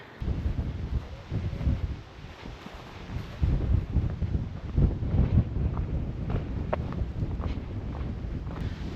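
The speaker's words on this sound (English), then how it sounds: "it is a bit windy." Steady wind buffeting the microphone on a woodland walk near Richmond in the Yorkshire Dales, a continuous low rumble with gusts rising and falling throughout.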